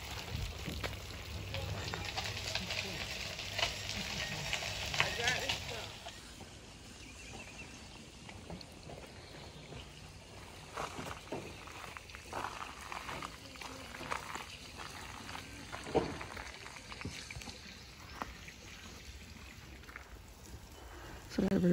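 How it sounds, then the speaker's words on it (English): Spring water pours and gurgles steadily from a healing spring in Blackville, South Carolina, a continuous splashing rush that stays moderately loud throughout with occasional bubbling surges. "here's the water. It just pours out"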